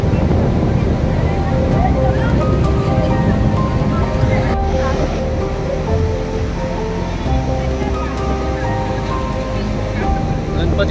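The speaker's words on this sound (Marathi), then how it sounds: "समुद्र थोडा खवळलेला आहे. मोठ्या मोठ्या लाटा येत आहेत." Big waves pounding the rough, churned-up sea at Ganpatipule beach make a loud, continuous roar that fills the whole stretch, with crowd voices mixed in underneath.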